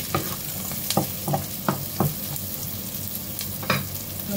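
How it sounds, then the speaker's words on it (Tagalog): Onions and carrots sauté in a hot pan for a beef dish, with a soft steady sizzle broken by repeated sharp clacks and scrapes of a spoon stirring the vegetables. "Igisa natin ang sibuyas hanggang lumambot ito. Lagay na po natin ang ating carrots."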